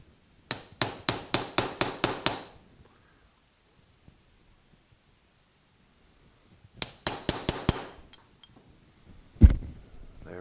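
Two bursts of rapid metal hammer strikes on a big punch, seven or so sharp blows each, driving a gearbox handle onto a Sidney lathe, with a heavier thud near the end; close and loud with quiet between.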